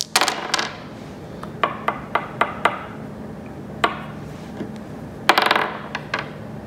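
Dice clatter onto a table for a tabletop writing game, a quick rattling tumble, then a run of separate sharp taps, and a final brief rolling clatter, close and clear with no talk.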